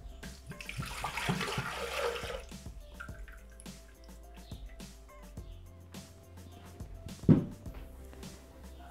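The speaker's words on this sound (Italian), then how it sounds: "Iniziamo la ricetta versando all'interno del boccale l'acqua." Water poured into a Thermomix TM6 mixing bowl in a home kitchen, with a steady splashing pour over the first couple of seconds, followed by faint drips, clinks and one sharp knock, close and fairly quiet.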